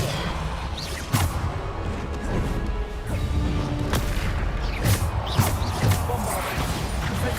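Depulso spell impacts in the game Hogwarts Legacy: a busy run of sharp crashes, whooshes and thuds landing in irregular bursts, loud and close, over a continuous bed of combat noise.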